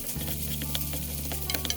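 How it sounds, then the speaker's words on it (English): Kimchi rice is stir-fried in a pan, a steady close sizzle with a spatula scraping and clicking against the pan and a few brighter scrapes near the end. "And stir fry again."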